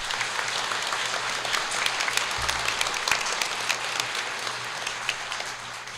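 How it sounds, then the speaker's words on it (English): An audience at a municipal all-candidates meeting applauds the council candidates, a steady patter of many hands in a hall, moderately close and even, with a low hum underneath. "Can we have a round of applause for all of the candidates?"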